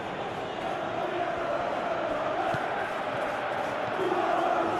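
Stadium crowd noise from a Crystal Palace vs Chelsea match in the football video game PES 2021, a steady broad roar of fans that swells slightly near the end with no break.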